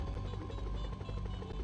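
MD500 helicopter in the SimCopter video game, a steady low rotor and engine drone that holds at an even level throughout, with no voices over it.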